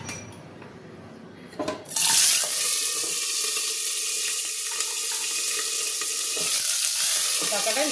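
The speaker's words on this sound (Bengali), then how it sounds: "এবার আমি এর মধ্যে কাঁকড়াগুলো ছেড়ে দেবো।" Crabs dropped into hot mustard oil in a kadai burst into a loud, bright sizzle after a quieter opening, then keep frying in a steady, crackling hiss.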